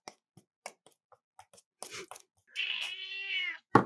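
A few scattered soft taps and clicks, then a cat lets out a long, drawn-out meow close by, followed by a sharp knock.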